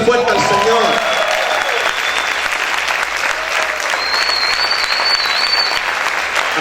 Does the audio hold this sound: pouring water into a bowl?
no